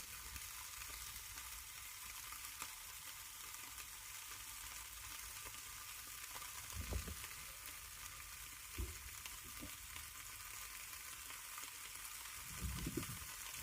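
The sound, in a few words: sweet chilli sausages sizzling in a frying pan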